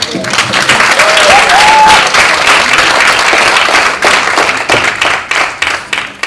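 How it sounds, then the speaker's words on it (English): Loud round of applause from a conference audience, dense and continuous at first, then thinning into scattered individual claps toward the end, with a brief voice early on. "Can we have a round of applause?"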